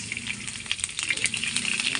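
Onion sizzles and crackles in hot cooking oil in a non-stick pan, a loud, steady frying hiss with dense popping throughout and no talking.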